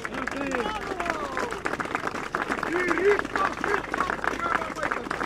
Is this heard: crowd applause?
yes